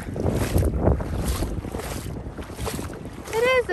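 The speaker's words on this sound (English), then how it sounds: "it is a little bit windy, so I like to kinda, let me try to block the wind." Rough, rumbling wind buffeting the microphone throughout on a beach while shelling, gusting unevenly, with a brief voiced sound near the end.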